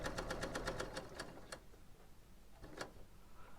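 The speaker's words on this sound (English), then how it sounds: "I'm just chain stitching roughly down the middle of one of the strips" A Bernina L890 sewing machine chain stitches along fabric strips, giving a faint, rapid run of even ticking stitches that slows, stops, and is followed by a couple of isolated clicks.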